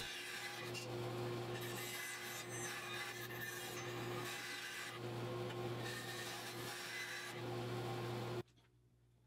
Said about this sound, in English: there's a fair amount of work in cleaning up by hand with a chisel, and then just back and forth, carefully making sure I get a really nice snug fit to the joint